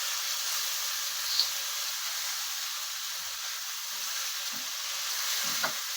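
Corned beef fries in a pan with a steady bright sizzle as it is mixed, with a few soft scraping taps from the utensil and no talk.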